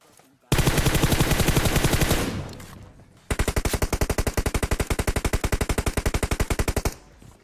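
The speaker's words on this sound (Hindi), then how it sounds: "यहाँ स्कूल से गोलियां चलने लगती हैं" Sustained automatic gunfire bursts from a school building in the PUBG video game: one long rapid burst, a short pause, then another long string of evenly spaced loud shots, close and dominant.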